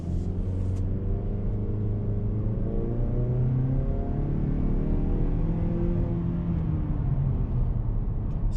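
A 2019 Mazda3 hatchback with a 2.5-liter engine accelerates in normal mode, giving a steady, close engine drone with rising tones that climb through the gears, with no talking over it.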